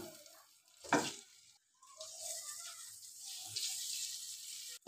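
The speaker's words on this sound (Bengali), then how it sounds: "তো ডিমগুলো হালকা করে একটু ভেজে নেবো।" Eggs frying lightly in a spoonful of oil in a wok, giving a steady soft sizzle with occasional stirring scrapes and one brief louder clatter near the start, with no talk.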